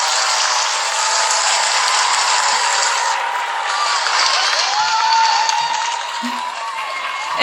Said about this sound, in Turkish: She is in Hatay yapanlara şöyle kocaman bir alkış